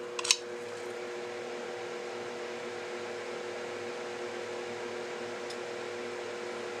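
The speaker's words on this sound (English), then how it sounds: "Turn on the fume extractor" A fume extractor fan at a soldering bench runs as a faint, steady hum with a brief click near the start, nobody talking.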